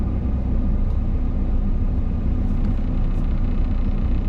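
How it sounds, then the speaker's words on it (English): Slow, barely moving road traffic in the Philippines, heard as a steady, loud low rumble of car engines and road noise throughout, with no voices. "This is the traffic right now."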